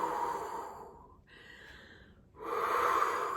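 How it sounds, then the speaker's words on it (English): Two long, deep exhales, a slow breathing exercise, come as loud, close, breathy rushes of air separated by a short quieter pause. "give us a nice big exhale"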